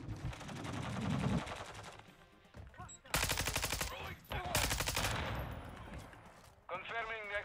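Automatic gunfire in Call of Duty MWII crackles in rapid bursts that stop and start, with loud volleys separated by short pauses. Faint radio-style voices play underneath.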